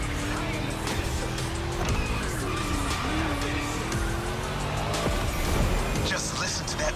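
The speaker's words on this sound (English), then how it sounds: "Just listen to that V8 like a chunky, down-tuned guitar riff." A V8 engine revs and tires squeal during a race in The Crew Motorfest, the rumbling engine note rising and falling under a skid, with someone talking over it.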